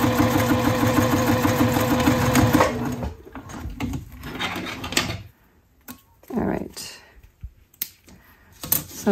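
Sewing machine with a standard presser foot stitching waterproof canvas with a plasticky backing, a dense mechanical whir for the first few seconds, then stops and starts with short bursts and handling clatter.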